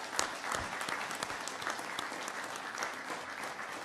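An audience at a Jurupa Unified School District board meeting breaks into sustained, moderately loud applause, a dense patter of many hands clapping together with no pauses.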